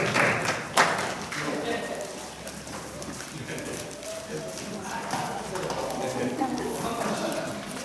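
Congregation applauding during a Christmas Day Sunday worship service in a Korean church, a steady spread of many hands clapping through the room after a sharp opening burst, with voices mixed in.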